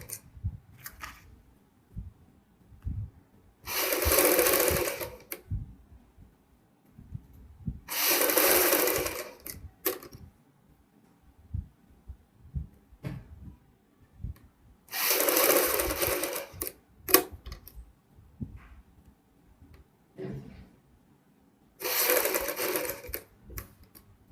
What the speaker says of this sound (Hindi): उतना ही चौड़ा गैप रखते हुए यहाँ पे हम सिलाई लगाएंगे।